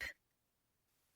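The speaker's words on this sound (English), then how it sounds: "I'll take that cough as an affirmative answer." One short, abrupt cough right at the start, fairly close, followed by near silence with faint room background.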